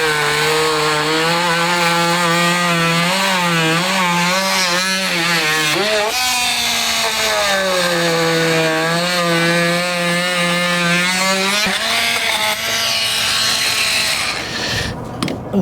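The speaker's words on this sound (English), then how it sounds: "this is a multi-tool" An oscillating multi-tool cuts into wood on the wall of a DIY storage shed. It gives a loud, buzzing, rasping whine that wavers in pitch as the blade bites, running continuously for about fifteen seconds with no talking.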